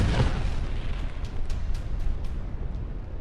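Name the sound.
explosion from bombing of church in Gaza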